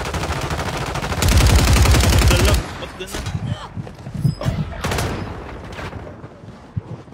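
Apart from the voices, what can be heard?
gunfire in a video game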